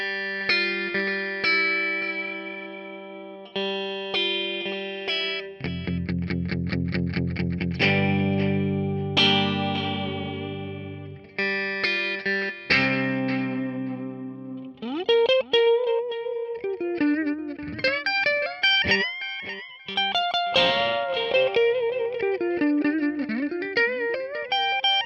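An electric guitar played through a Digitech RP355 multi-effects unit into a 4x12 cabinet, first with distorted chugging chords and riffs, then a bending, warbling lead line with effects, loud and continuous.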